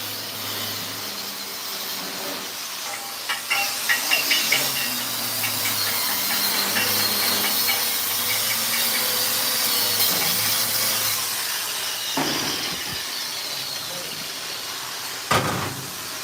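An angle grinder works over the back of a steel welding coupon in a welding shop, a steady broadband hiss and whine running nearly the whole time with sharper bursts where the disc bites, plus a few clanks near the end.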